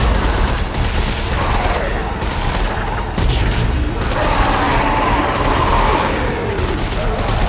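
Weapons fire and mechanical clatter in the sci-fi shooter Dead Space 3, loud and continuous with booming bursts and a busy game soundscape, no one talking over it.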